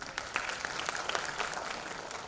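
Audience applause at a 2018 women's empowerment awards ceremony, a dense steady wash of many hands clapping throughout, moderately loud and continuous with no pauses.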